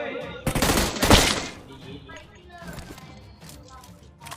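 PUBG Mobile gunfire: a loud, rapid automatic volley near the start, then scattered fainter shots, with players talking over the shooting.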